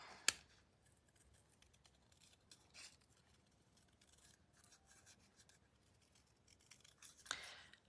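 Scissors snipping out a stamped paper piece, with a few sharp clicks at the start and end and soft, quiet rustling and cutting in between.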